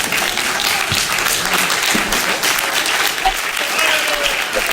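A church congregation stands and applauds the Lord during a Spanish-language sermon on the Bible: thick, continuous clapping from many people, loud and sustained, with faint voices mixed into the roar.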